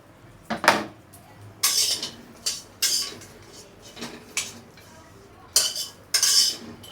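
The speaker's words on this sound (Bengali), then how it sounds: "এখন অনবরত নেড়ে ভেজে নিব।" Dried fish (shutki) is stirred while dry-frying in a pan, with repeated sharp scraping and clinking strokes of a utensil against the pan, close and clear, in uneven bursts.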